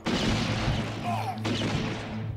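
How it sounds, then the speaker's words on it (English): Gunfire in the game Blood Will Be Spilled, a steady loud wash of shots and impacts filling the moment, close and continuous with no clear gaps, with faint talk mixed in. "They shot my cover."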